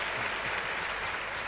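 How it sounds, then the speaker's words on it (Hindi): Audience applause at a Hindi comic poetry gathering: a dense, steady wash of many hands clapping together at even loudness from start to finish, with no voices above it. "तालियां बजा सकते हो आप"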